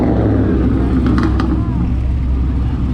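A vehicle engine rumbles steadily at close range, a deep continuous drone with a brief rise in pitch, under faint background talk.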